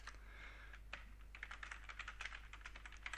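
Rapid typing on a computer keyboard, with a quick, uneven run of close key clicks at steady loudness over a low electrical hum.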